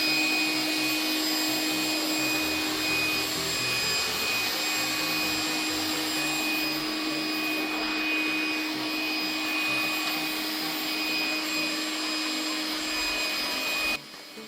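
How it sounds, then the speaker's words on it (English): A Trifo Lucy robot vacuum's suction motor runs loud and close, a steady whining roar with a high tonal hum that holds unchanged for the whole stretch before cutting off at the end. "There you can see the amazing power which Lucy has, or which Lucy's suction motor has"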